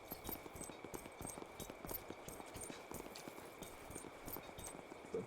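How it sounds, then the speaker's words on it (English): Steady, even footsteps tread across a hollow-sounding floor in the Roman-era game Expeditions: Rome, a quick regular rhythm of dull thuds over a faint constant background hum. "there's a dull quality to our footsteps here"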